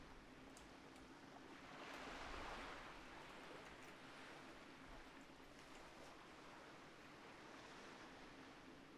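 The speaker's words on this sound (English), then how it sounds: "The water effect sounds are always a little weird in Classic." Water and waves lapping in World of Warcraft Classic, a soft, continuous wash of noise that swells briefly early on and then holds steady and faint.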